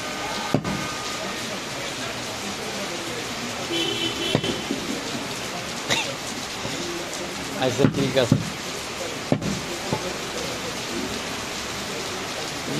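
Steady rain falls outside a meat shop during a rainy day, a dense, even hiss with occasional louder knocks and thumps, while people talk over it.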